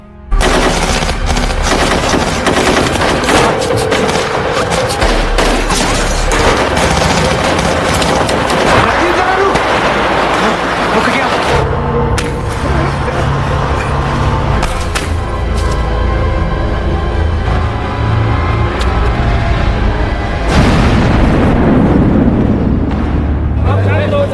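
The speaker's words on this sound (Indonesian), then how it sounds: "Kontak senjata antara pasukan khusus dan teroris pun tidak terelakkan lagi." A film shootout in a hotel between special forces and terrorists, with loud continuous automatic gunfire and blasts layered over dramatic music and effects, dense and unbroken throughout, with voices under the barrage.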